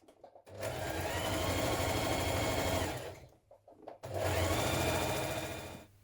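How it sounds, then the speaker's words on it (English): A sewing machine runs a stretch stitch around a trouser cuff in two steady bursts of close, even whirring, with a short pause between them and no talking. "We're going to stitch that in place using a stretch stitch."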